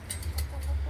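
Laying hens clucking in a backyard coop, short scattered calls at moderate distance over a low steady hum, with possible faint talk.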